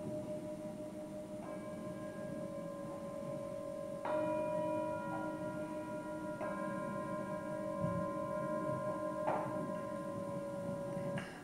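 Large bells ring in a few separate resonant strikes, each leaving a long shimmering hum that lingers and overlaps the next, fairly soft in a quiet room.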